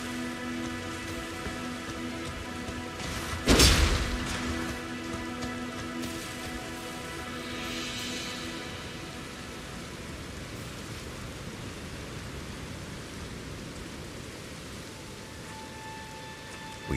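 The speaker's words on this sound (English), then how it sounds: "It's raining. It's slightly pouring." Pouring rain in the video game Elden Ring hisses steadily and evenly throughout, with one sharp loud impact early on and faint tonal game music beneath, no voices.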